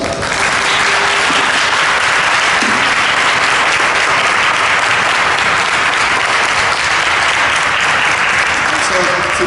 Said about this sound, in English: give a Central Falls warm round of applause to Mayor Christine Hunschofsky